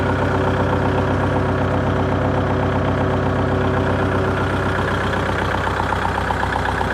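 A Kubota L4708DT tractor with about 3,147 working hours idles close by, its engine giving a loud, steady, even chugging throb that holds unchanged throughout with no voices.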